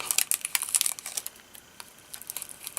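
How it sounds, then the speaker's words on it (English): Crackly, snappy bursts of tape being torn and pulled off the roll come up close and fairly faint, with a few quick tears and then quieter crinkles. "grab some tape to hold that down"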